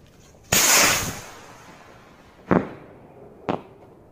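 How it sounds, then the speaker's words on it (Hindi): A Sunshine brand two-sound rocket firecracker: a loud hissing launch burst lasting about half a second, then two sharp separate bangs about a second apart, each fading quickly into quiet. "नेक्स्ट हम ट्राई करते हैं 2 साउंड रॉकेट सनशाइन ब्रांड का"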